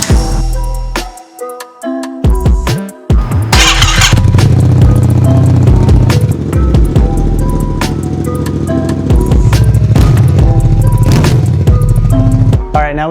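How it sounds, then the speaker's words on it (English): A freshly rebuilt motorcycle engine starts with a few sputtering bursts, then settles into a loud, steady running rumble that carries on close by. "there's nothing as good as that feeling when you finish a big project like this and it starts right up, first start"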